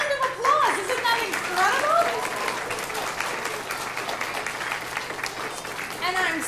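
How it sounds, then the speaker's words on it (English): A crowd at a post office opening ceremony in Primrose applauds, with steady dense clapping mixed with some voices and children's chatter, moderately close. "Round of applause"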